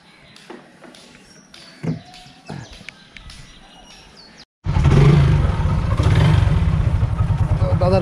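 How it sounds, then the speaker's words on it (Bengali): A motorbike starts and sets off near a riverside village: quiet outdoor air with scattered birdsong breaks suddenly into a loud, close, throbbing engine rumble that carries on steadily. "দাদার বাইকে করে এবার বেরোলাম"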